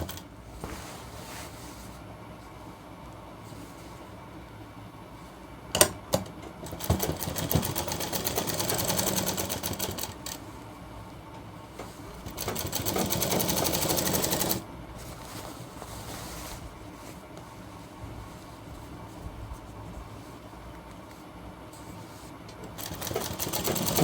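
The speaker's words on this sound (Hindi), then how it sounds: "सिलाई बिल्कुल किनोर के ऊपर लगानी है हमें" Sewing machine stitching a shirt hem right along the folded edge, a steady close mechanical whir in long runs with brief pauses and a louder surge midway, no talking.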